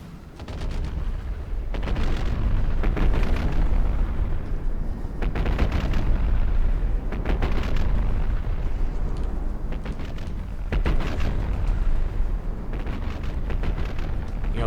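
Battleship guns fire repeatedly in a naval combat game, heavy booms recurring every few seconds over a continuous low rumble of explosions and engine noise, with no talk.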